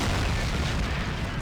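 Mortar shell explosion in the war strategy game Men of War: Assault Squad 2, heard as a dull, rumbling low boom that fills the short moment at moderate loudness.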